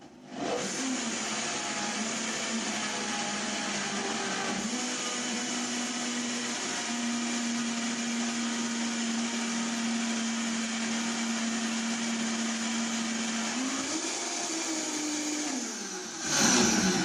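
A Vitamix blender runs at high speed while beetroot pâté is processed, a loud steady whirring roar holding one pitch, then briefly shifting and speeding up before it stops.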